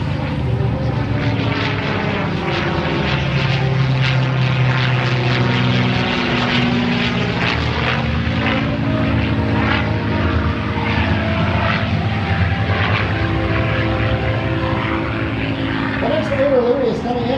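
P-51 Mustang propeller fighter flying an aerobatic display at the Toronto air show, its piston engine droning loudly and continuously with shifting pitch, while a person talks over it throughout.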